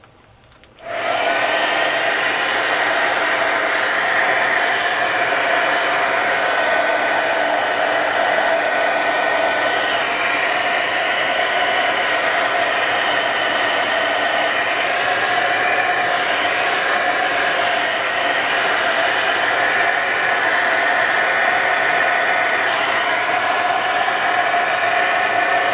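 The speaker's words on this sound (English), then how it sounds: "Maybe dry it a little bit to kind of blow the color around" A hair dryer blows steadily and loudly on wet paint on an art journal page, switching on sharply at the start and running as a constant close-up roar for the rest, with no talking.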